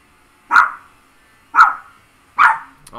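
Puppies bark three times in a steady sequence, loud and close, each bark sharp and short with a slight yelp, with no talking over them.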